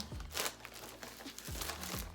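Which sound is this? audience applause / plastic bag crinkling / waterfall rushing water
plastic bag crinkling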